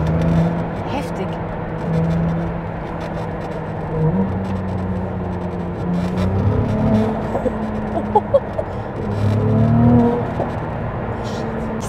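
A Ferrari 296 GTB with a V6 engine revs and pulls, its engine note rising and falling in steps under someone talking over it inside the car.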